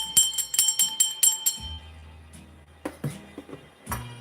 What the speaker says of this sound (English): Let's get some bells for Mikey